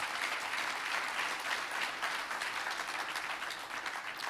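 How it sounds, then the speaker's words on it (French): A room full of people applauds presenters after a strategy presentation, a sustained, dense and fairly loud sheet of clapping that holds steady for over four seconds with no voices over it. "on peut les applaudir"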